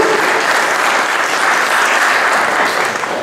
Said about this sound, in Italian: un applauso a te